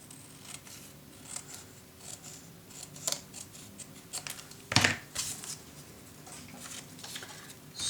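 Scissors cutting a paper border for a craft magnet on a cabinet project, with a few quiet snips and one sharp, louder cut in the middle against soft background rustling.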